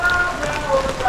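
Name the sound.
heavy rain falling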